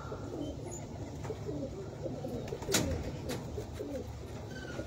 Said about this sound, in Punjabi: ਲੋ ਜੀ ਪਿਓਰ ਬਗਲ ਪਾਟੀ ਕਬੂਤਰੀ ਜੀ